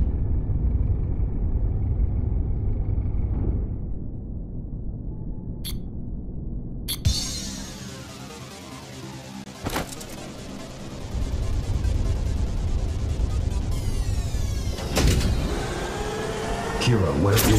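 A motorbike in the video game Ghostrunner 2 starting up: a low engine rumble, a sharp mechanical clunk, then a rising whine and revving with bursts and crashes, loud and close, with speech heard over it.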